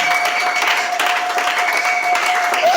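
A church congregation at a Sunday thanksgiving service applauds in a steady, loud, dense clatter of many hands, with a faint sustained tone running underneath the whole time.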